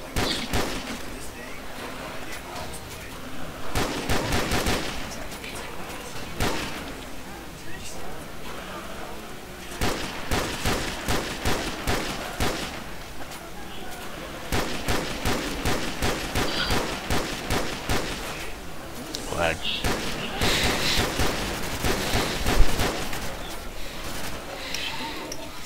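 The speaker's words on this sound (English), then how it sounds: "that was 400 bullets that I just shot" Rapid gunfire in a Custom Zombies shooter game, long bursts of automatic fire that repeatedly stop and restart, loud and dense across the whole stretch.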